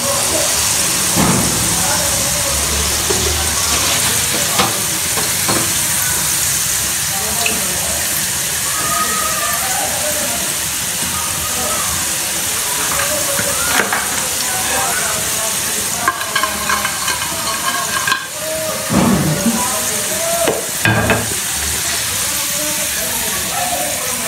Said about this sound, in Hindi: चलिए पकौड़े हमारे अच्छी तरह से फ्राई हो गया।